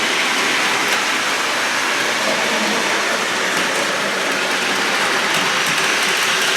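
An O gauge model train runs around the inside loop of a public display layout, a steady, continuous rolling rumble and hiss with no pauses and no voices over it.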